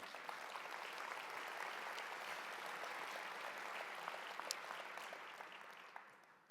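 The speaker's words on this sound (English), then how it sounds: "Give yourselves a round of applause again." Audience applause at a trade show lunch, dense steady clapping from a room full of people, faint and distant throughout, tapering slightly at the end.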